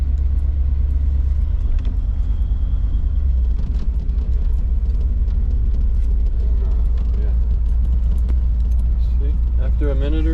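The 350 TBI V8 of a 1987 Chevrolet Silverado, fitted with a mild RV cam, runs after a cold start with a loud, steady low rumble for the full stretch. There is faint talk near the end.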